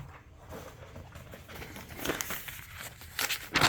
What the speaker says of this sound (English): I guess let me pull the dyno sheet out here.